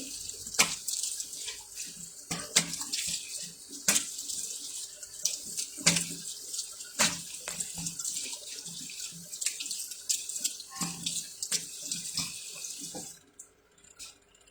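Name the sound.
running tap water while washing face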